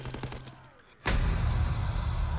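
A sudden loud blast from WWII Zombies game gunfire aimed at zombies cuts in after a quieter stretch, followed by a dense, continuous roar of shooting and rumble, with no voices.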